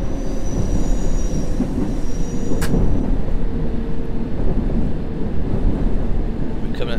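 A London Underground train in a train simulator video game brakes with a steady, loud rumble of wheels on track, broken by a brief squeal. A faint voice sits under the noise.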